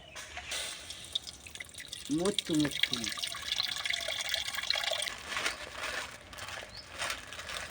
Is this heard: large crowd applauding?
no